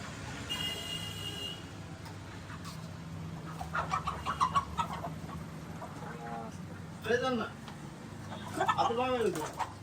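Chickens cluck in short bursts near the microphone, with people talking in the background.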